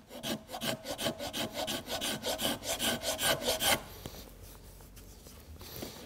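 Hand scraper shaving the surface of a wooden boat part, a rhythmic series of close rasping strokes for several seconds, then a quieter pause with faint handling noise.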